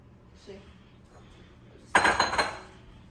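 A small bowl set down under a strainer in a kitchen while making Thai boba tea: one clear clink with a short rattle of dishware after it, close and alone over quiet room tone.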